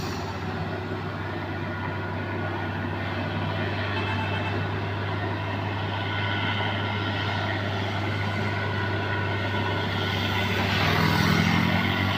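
A heavily loaded Super HDX diesel truck accelerates up the steep Kedabuhan incline, its engine a loud, steady low drone that swells slightly toward the end, with no voices.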